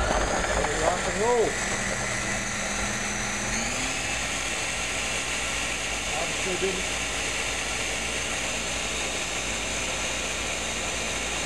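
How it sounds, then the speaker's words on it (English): A Ninja blender runs with a steady, loud motor whine and hiss throughout, its pitch shifting briefly early on as it spins up, close by with no pauses. "Put the lid on ye old Ninja clamp it down, turn it on, rock and roll"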